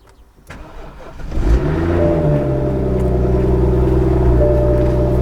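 A damaged US-import BMW car engine cranks briefly and catches on a cold start, then settles into a steady, loud idle with a constant low hum and no voices.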